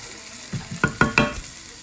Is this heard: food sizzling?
yes